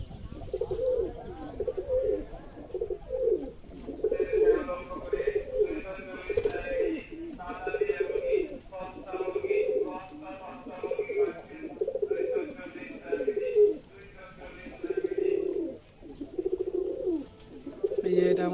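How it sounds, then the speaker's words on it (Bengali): Rajshahi giribaj pigeons coo repeatedly in a loft, rolling calls in uneven bursts close by, with other birds faintly chirping and a voice speaking at times. "কবুতরটা চলে এসেছে"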